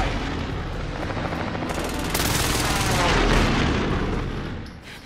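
Call of Duty: Modern Warfare battle din: sustained gunfire and rolling explosions swell into a loud, dense roar midway as an airstrike lands, then fade slightly toward the end, with no clear talk.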